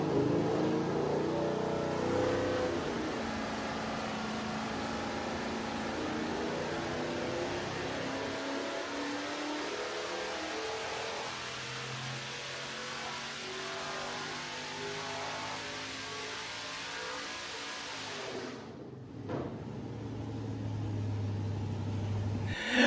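An aluminum 5.3 liter L33 V8 runs on an engine dyno with a mild Truck Norris camshaft, a loud sustained roar that shifts pitch as it revs and settles, with a short dip near the end.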